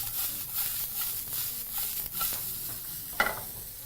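Onions frying in a pan for sukuma wiki, with a soft steady sizzle and scraping stirs, plus a brief clatter near the end.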